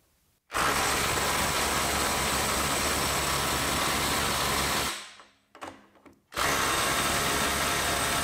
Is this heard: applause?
no